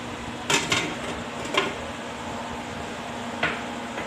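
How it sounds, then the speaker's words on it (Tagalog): Onions dropped into a cooking pot, heard as a few sharp metallic clinks and clatters spaced unevenly over a low steady background, close by and with no speech. "Ngayon po, ilalagay ko na yung sibuyas para lumasa na."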